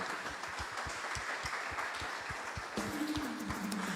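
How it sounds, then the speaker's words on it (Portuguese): A church congregation applauds during a Friday healing and deliverance service, steady broadband clapping with distinct louder claps through the whole stretch and a sustained tone joining in near the end. "dê para o Senhor uma linda salva de palmas"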